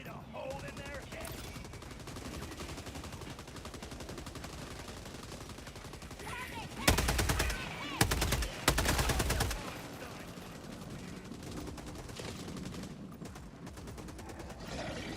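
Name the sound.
gunfire in the Helldivers 2 video game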